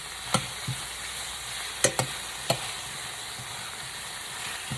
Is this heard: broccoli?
yes